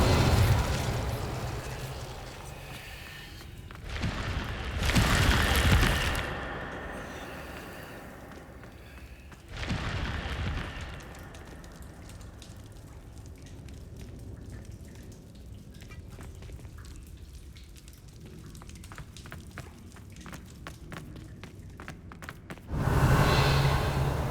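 The Incendio fire spell goes off in Hogwarts Legacy, giving a loud fiery burst that flares again a few seconds later, with crackling, sizzling texture sustained over the long middle stretch and another burst at the end.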